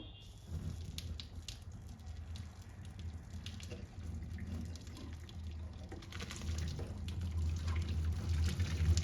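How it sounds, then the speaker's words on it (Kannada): Homemade paneer curds being strained as the whey is poured off, a steady close trickle and splash of liquid running on throughout, growing a little fuller toward the end. "ಇವಾಗ ಮಾಡ್ಕೊಂಡಿದ್ದಂತಹ ಪನ್ನೀರ್ನ ಫಿಲ್ಟರ್ ಮಾಡ್ಕೋಬೇಕು"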